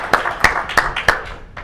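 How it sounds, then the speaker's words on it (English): An audience claps in four or five distinct, evenly spaced bursts, close and fairly loud, each a sharp crack followed by a short decay. "Yeah, clap, clap, clap."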